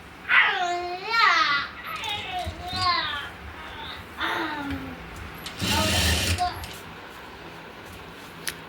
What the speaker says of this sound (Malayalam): ഈ വശം ഇവിടെ നമുക്ക് സ്റ്റിച്ച് ചെയ്തെടുക്കാം.